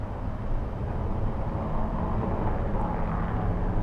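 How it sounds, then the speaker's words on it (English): A Lufthansa Airbus A380 airliner in 100-year anniversary paint rumbles at Los Angeles airport, a continuous heavy low roar of jet engines heard from a distance and holding steady throughout. "that is the A380 painted in the big 100-year anniversary for Lufthansa"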